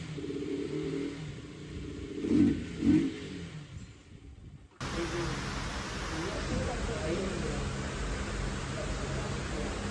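A KTM Duke 250 motorcycle rides along, its engine and rushing wind forming a steady, loud broadband roar after a short stretch of quieter sound with a voice.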